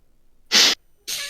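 Two short, sharp breathy bursts, close and fairly loud, separated by a brief silence, like a stifled sneeze.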